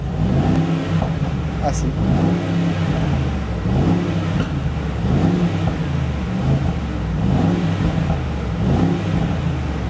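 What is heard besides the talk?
Mercedes G63 2023 engine accelerating with exhaust pops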